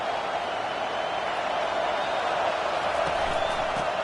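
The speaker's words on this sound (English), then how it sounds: "this crowd is fired up. Listen to this noise here." Steady, dense roar of a stadium crowd in a College Football 25 video game matchup of Georgia versus Oregon, a continuous wash of distant cheering with no distinct voices.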